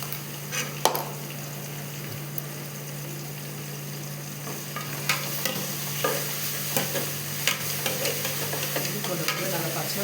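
Onions and ginger garlic paste for chicken biryani are sautéed with steady stirring and a low sizzle. Spoon scrapes and taps against the pan recur throughout, over a constant background hum.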